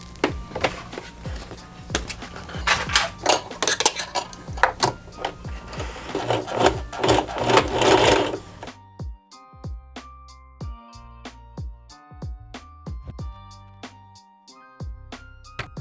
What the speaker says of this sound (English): I'm gonna be stitching at 1/4 inch all the way down.